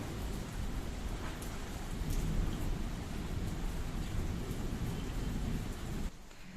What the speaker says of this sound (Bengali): সকাল থেকেই বৃষ্টি পড়ছে